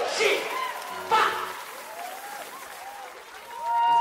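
A festival audience at a live King Gizzard & The Lizard Wizard show gives a diffuse wash of applause and crowd noise while someone speaks over it, with the clapping swelling again toward the end.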